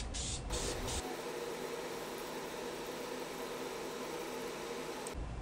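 Spray paint hisses onto an Xbox controller for its third coat, a steady broadband spray held for several seconds with a brief pause near the start.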